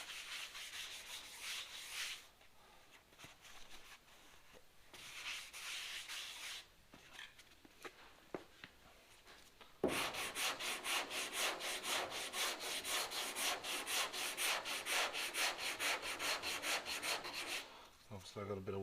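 Hand sanding with 80 grit sandpaper on the body of a Ford XY sedan: bursts of rasping strokes with pauses, then a long stretch of fast, steady back-and-forth scrubbing, close up with no talk.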